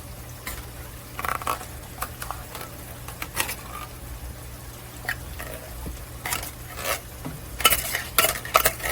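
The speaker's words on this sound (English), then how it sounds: "Now you want to take your first can of your whole berry cranberry sauce and put this on here." Spoon scraping and spreading whole berry cranberry sauce across a dish of Thanksgiving leftovers, irregular close-up wet smears and clinks of metal against the pan, with a low steady background hum.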